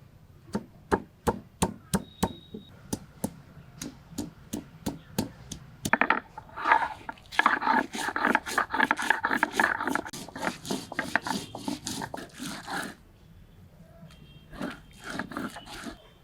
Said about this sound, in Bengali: পাটাতে নিলাম কয়েকটা পাকা কাঁচা লঙ্কা আর নিলাম পেঁয়াজ আদা রসুন সব কিছু ভালোভাবে থেতো করে একসাথে বেটে নেব